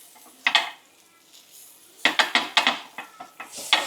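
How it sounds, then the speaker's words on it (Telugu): Butter and onion go into a hot pan for dosa, heard as a series of close metallic clinks and scrapes of a utensil against the pan with a faint sizzle between them. "ఫస్ట్ నేను బటర్ వేసుకుంటున్నా. బటర్తో పాటు ఉల్లిగడ్డతోని ఇక చూస్తురా బటర్ ఇంకా ఉల్లిగడ్డ"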